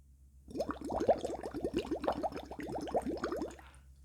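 Liquid boiling with rapid, irregular bubbles popping at the surface, a dense close crackle of small bursts that starts after a brief quiet and continues steadily.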